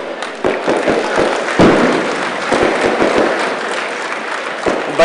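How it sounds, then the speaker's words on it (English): A fireworks display at an outdoor police duty meet and award ceremony: irregular sharp bangs and thumps burst out at varying distances over a continuous crackling hiss, with a faint crowd murmur underneath. "we have a firework display"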